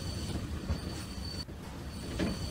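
A train rolls along a railway in a Fixiki children's video game, a steady rumbling run with a high, sustained wheel squeal and a short gap partway through, with no talk.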